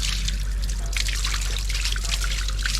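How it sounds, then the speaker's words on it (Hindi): Water from a motor-driven pump trickles and splashes steadily while a puppy is being bathed, a continuous close stream with a low motor hum underneath and no talking. "मोटर चल गई, पंप पानी आ गया,"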